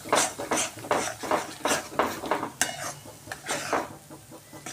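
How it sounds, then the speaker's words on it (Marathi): Masala is stirred and sautéed in oil in a pan for a Marathi egg curry. A spoon scrapes the pan in steady rhythmic strokes over a faint sizzle, close up, with no talking. "तेलामध्ये मी हा मसाला घालून घेतलेला आहे. आपण छान असा तेलामध्ये परतवून घेणार आहे याला."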